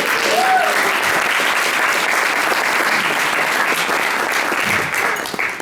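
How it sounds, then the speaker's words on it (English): Sustained applause from a large audience at a graduation ceremony, steady and dense throughout, tapering slightly at the end. "so give yourself a round of applause."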